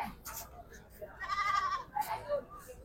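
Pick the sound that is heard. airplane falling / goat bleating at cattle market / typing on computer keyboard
goat bleating at cattle market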